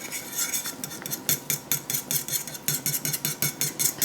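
An egg being whisked into simmering soup with shui mai dumplings, a brisk, regular run of close metallic whisk clicks against the pot, alone without talk.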